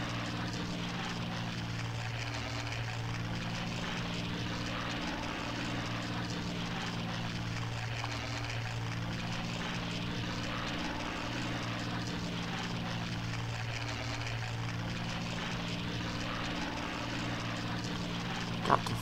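Steady drone of a World War II era propeller plane engine in the Battle of Britain flight combat video game Combat Wings, with Hurricanes and Heinkels involved, a continuous loud engine hum with slow swelling sweeps and no talking.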